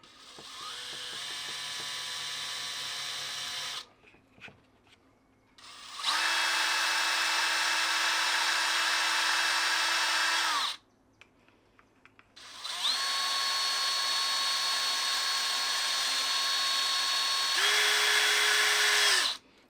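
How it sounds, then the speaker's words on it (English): A power drill whirs in three long bursts with short pauses between, drilling a homemade broadhead sheath, its motor pitch steady and loud, close by. "right there we're going to drill."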